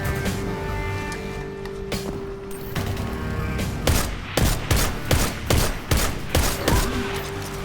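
Steady rhythmic scout rifle shots in Destiny 2, with a Hunter firing single loud, close cracks at a measured pace. Each shot lands about every half second over a humming game background.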